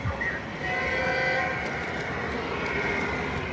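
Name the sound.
model train running at Berkshire Hathaway meeting display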